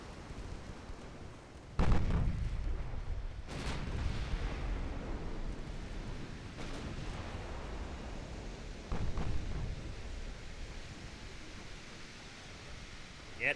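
A naval gunfire broadside in the warship game Ultimate Admiral Dreadnoughts, with several heavy booming salvos spaced across the stretch over a rumbling, noisy battle background and occasional talk.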